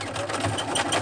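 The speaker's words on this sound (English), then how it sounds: "we're going to do a small zigzag stitch straight across" A sewing machine runs steadily through a short stretch of small zigzag stitching across the edge of a bouffant surgical scrub hat, an even mechanical whir with no talking.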